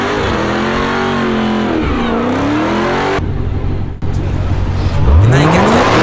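A Dodge Hellcat's engine growls and revs nearby, pitch climbing and dipping through several loud accelerations with a brief cut in the middle.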